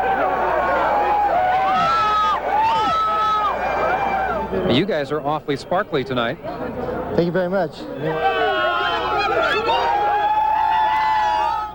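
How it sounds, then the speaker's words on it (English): Noisy New Year's Eve crowd on Las Vegas Boulevard: a dense, steady roar of chatter and shouting fills the whole stretch, with close voices talking over it and a loud burst of cheering in the middle. "the crowd is getting bigger. They are getting somewhat less sober and certainly a whole lot noisier."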